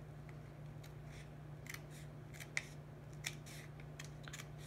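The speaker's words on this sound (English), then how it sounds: "And then we'll just cut on that line," Scissors cut along a marked line, giving a few faint, sparse snips over a low, steady hum in a quiet room.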